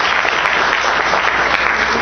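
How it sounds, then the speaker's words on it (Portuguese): Audience applause after a talk on informatics in medical-hospital technology, a dense, steady wash of many hands clapping at close range for the whole stretch, with no voices over it. "Queria que vocês dessem quase uma salva de palmas"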